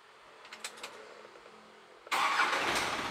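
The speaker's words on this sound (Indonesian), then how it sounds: "Saya hidupin dulu mesinnya Om." A diesel vehicle engine cranks and catches after a quiet stretch of faint clicks, then settles into a loud, steady rumbling idle close by.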